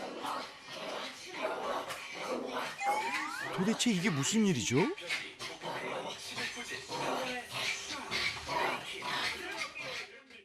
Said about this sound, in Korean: 갑자기 TV를 향해 달려가더니 다짜고짜 화를 내며 짖기 시작합니다.